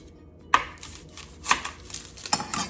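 An onion being chopped on a cutting board, a few sharp knife knocks spaced irregularly over a couple of seconds, close and clear with no talking.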